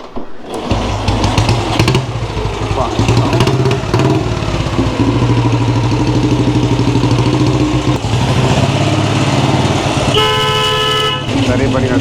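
Close, loud engine of a roughly 70-year-old BSA motorcycle running with a throbbing, uneven idle, people talking over it, and a brief horn toot near the end.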